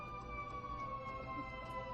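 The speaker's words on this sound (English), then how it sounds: "God damn it with the ambulance." An ambulance siren wails steadily outside, a sustained tonal whine with a wavering pitch, moderately distant and continuous throughout with no talk over it.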